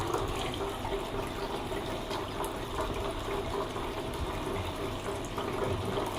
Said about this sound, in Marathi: त्या धबधब्यात महादेवाची पिंडी उभं केली आणि त्या महादेवाच्या पिंडीवरती सध्या म्हणजे हे एक नैसर्गिकरित्या पाणी पडताना दिसत आहे